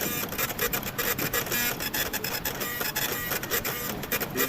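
A printer running a photo print job, with dense, even mechanical whirring and rapid ticking feed strokes that stay loud and continuous with no voices.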